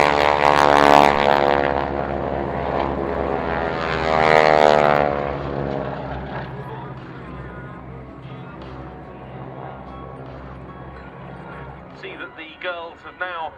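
The Breitling Wing Walkers biplane circuits in to land at an air show, its propeller engine droning loudly overhead then fading as it passes, with an announcer talking over it.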